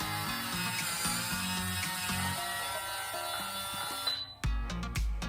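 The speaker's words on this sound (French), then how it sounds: "Donc là, ça a bipé." A hair curler's timer ending with short electronic beeps, heard after a stretch of background music that cuts out near the end, followed by a few sharp taps.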